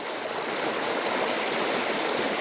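Water from natural springs flows along a river stream in a steady, unbroken rush that stays close and fairly loud throughout, with no voices.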